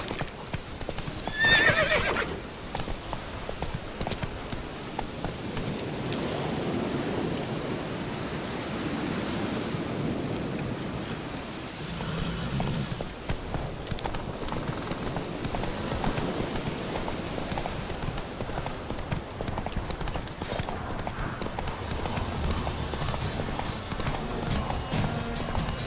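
Roach, Geralt's horse in The Witcher 3, gallops with dense, continuous hoofbeats and loud rushing motion, and a whinny breaks out near the start.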